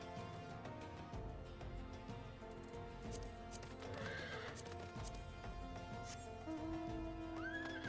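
Horses in Final Fantasy XIV whinny and neigh, with hoof clip-clops and game ambience underneath. The calls are fairly faint and recur at intervals, and a final neigh comes near the end.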